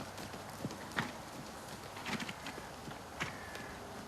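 Horse hooves clip-clopping at a steady walk during a riding session, a soft irregular beat of footfalls at moderate distance over low background noise.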